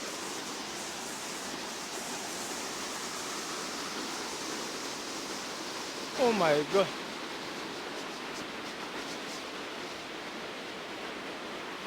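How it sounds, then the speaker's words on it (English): A waterfall pours in a steady, hissing broadband rush at moderate level throughout, with a person exclaiming briefly midway over the continuous water noise. "A beautiful waterfall."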